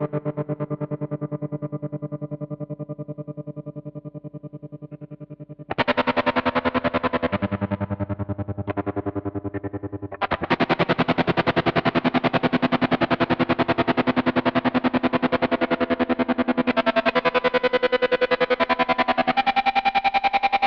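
Electric guitar played through a Vahlbruch Twin Tremolo pedal, with sustained chords pulsing in rapid choppy tremolo and shifting across several settings, growing louder and more distorted partway through, with no talking.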